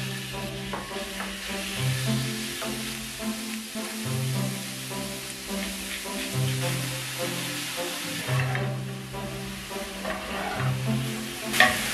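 Meat frying in a pan with vegetables, a continuous close sizzle with repeated stirring scrapes and a low rhythmic hum underneath, no voices.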